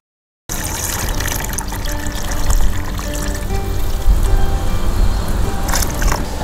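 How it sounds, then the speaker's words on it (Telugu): Two litres of cow milk pour continuously into a panchagavya mixture already holding cow urine, a steady close splashing stream that runs without a break after a brief silent start. "ఆవు మూత్రం పోసుకున్న తర్వాత ఆవు పాలు 2 లీటర్లు ఇందులో పోయాలి."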